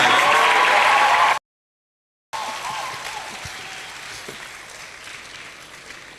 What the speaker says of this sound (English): I will see how far you want to clap for your dean.